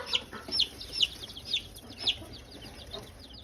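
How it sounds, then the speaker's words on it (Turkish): Village chicks chirp in quick, high peeps, several birds calling in a loose, irregular rhythm at moderate distance. "Burada köy civcivlerimiz."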